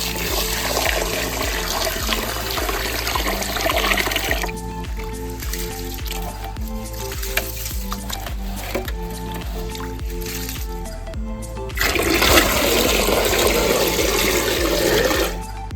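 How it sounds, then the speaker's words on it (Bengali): Rice washed by hand in water, with continuous wet sloshing and squishing, close and loud, over a steady low tonal hum that eases midway before the splashing surges again. "চাল ধুয়ে নিচ্ছি।"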